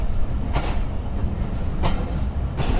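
The Dhalarchar Express rolls on rails near Ishwardi Bypass station in Pabna, giving a steady low rumble with a few sharp wheel clacks spaced through it, heard up close with no voices.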